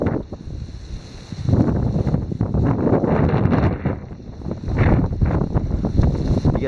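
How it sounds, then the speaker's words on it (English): Strong wind buffets the microphone on the cold, snowy summit of Bald Knob at Mountain Lake, Virginia, in early March, a loud continuous roar that surges and eases in gusts. "A little bit windy and snowy."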